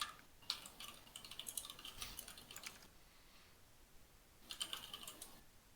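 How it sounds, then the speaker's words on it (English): Quiet typing on a computer keyboard during an online game match, soft bursts of rapid key clicks separated by a short pause, faint and with no voices. "typing."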